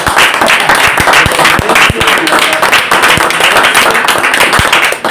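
A studio audience applauds for David at the close of a television program, with dense, steady clapping near and loud for about five seconds and no talk over it.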